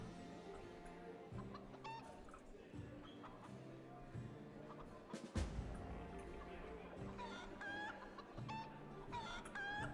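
Chicken clucking in a video game, repeated fowl calls and clucks over a busy game soundscape with low rhythmic music, a sharp hit near the middle, fairly loud throughout.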